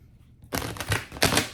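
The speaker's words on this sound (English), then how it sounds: "Sorry, I can't rush the shuffle." Tarot cards shuffled by hand during a reading, a soft papery riffle that starts after a short quiet gap and comes in two or three close, crisp bursts.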